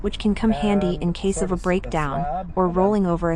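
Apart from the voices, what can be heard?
No distinct noise like a dog, phone or traffic.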